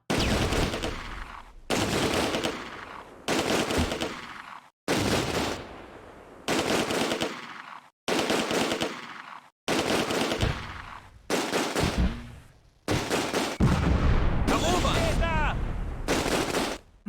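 Heavy machine guns in the wartime strategy game Close Combat: A Bridge Too Far fire in about a dozen loud, close bursts, each lasting around a second with short silences between them. A voice sounds faintly near the end.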